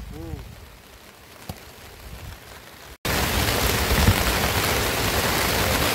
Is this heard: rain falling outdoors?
yes